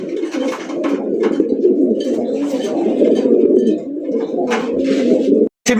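Khaki-coloured pigeons coo continuously in a dense, throaty chorus close by, with occasional flutters and knocks, ending in a brief sudden silence.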